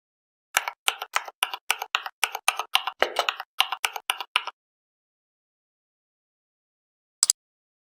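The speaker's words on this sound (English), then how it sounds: "In the search bar, type Glidex and press Enter." Rapid keystrokes on a computer keyboard, typing a search term into the Microsoft Store search bar: a quick, steady run of close clicks for about four seconds, then silence and one final double tap as Enter is pressed.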